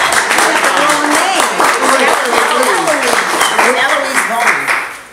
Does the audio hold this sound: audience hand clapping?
yes